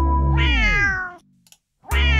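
Two close, loud meows from a cat in a convenience-store video game: a long falling cry, a brief pause, then the start of another meow.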